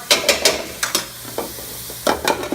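Sliced mirepoix vegetables are tipped into a soup pot in a few quick bursts, with scraping and a light sizzle between the drops.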